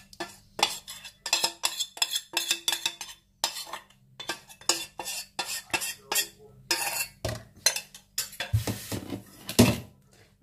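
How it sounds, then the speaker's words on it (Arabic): Melted chocolate being stirred into biscuits in a bowl, a utensil scraping and clinking against the dish in a steady series of close, loud strokes with brief pauses, no voices. "غادي نخلطو معاه مزيان حتى يتجمع ليا بداك الشكلاط"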